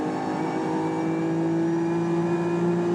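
A Nissan Skyline R33 JGTC race car at Suzuka pulls hard in sixth gear, its engine a loud, steady high-pitched drone with strong harmonics that climb slightly, heard alone and close without any talk.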